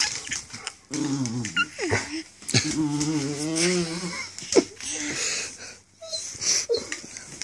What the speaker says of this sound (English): Easy, puppy. Say Boe Boe.